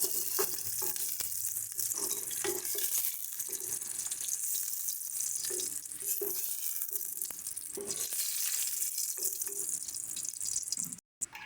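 Duck eggs frying in hot oil in a pan, a dense continuous sizzle with soft spatters and occasional stirring scrapes, steady and close throughout.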